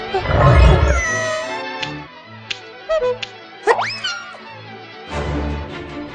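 A cat meows a few times amid playful cartoon sound effects and background music, with a springy boing in between.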